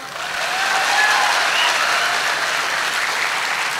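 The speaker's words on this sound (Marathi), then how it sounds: "हा, जोरदार टाळ्या होत्या एकदा" An audience at a comedic speech by Vitthal Kangane in Maharashtra claps vigorously in a dense, sustained ovation, loud and steady throughout with no talk over it.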